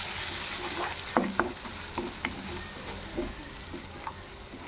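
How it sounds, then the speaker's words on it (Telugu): Roasted onion paste for Telangana fish curry fries in a pan with a steady hiss, broken by several sharp scraping stirs spaced through the clip. "పచ్చి వాసన పోయేంతవరకు దీన్ని వేయించుకోవాలి"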